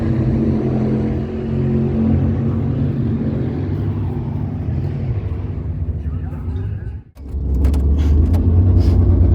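Race car engine at a track, loud and close, a rough, steady rumbling drone with a fault that keeps it from running well. It drops out sharply near the end, then returns with crackling pops, while a person talks.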